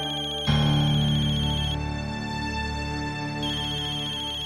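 A telephone rings steadily with a repeating electronic ringtone, clear and close, with no voices.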